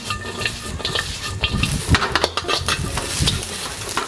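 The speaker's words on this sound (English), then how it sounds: "we can now mix through the rest of the ingredients." Singapore noodle ingredients stirred and fried in a pan, with steady sizzling under irregular scraping and clinking of a utensil against the pan, close and continuous, with no talking.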